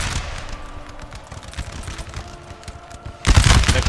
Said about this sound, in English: The Coburg Grenadiers firing onto the armed citizenry.